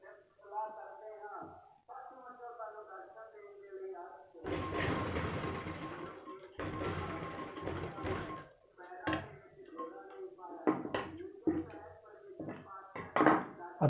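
A sewing machine stitches a seam on a pair of ladies' pants in two bursts of a few seconds each, with someone talking before and after.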